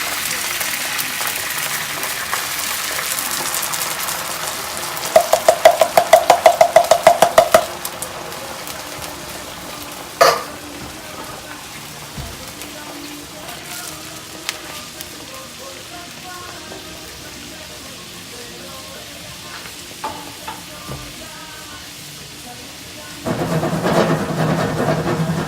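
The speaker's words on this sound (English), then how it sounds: "we're gonna go ahead and we're gonna put the beans and the juice in" Beans and their juice hit a hot pan for a Cuban dish, giving a steady rain-like hiss and sizzle with occasional spoon knocks against the pan, then a louder burst of sizzling near the end, with no talking.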